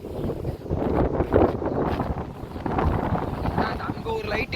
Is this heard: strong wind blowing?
yes